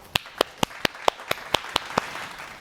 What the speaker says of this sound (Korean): 우리 우선 박수부터 쳐볼까요?